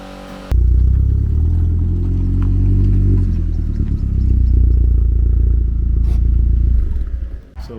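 A remapped Seat Leon Cupra R engine, tuned to stage 2 and making 272 brake horsepower, rumbles loudly and close up. It idles deep and steady, with a rise in revs partway through before settling.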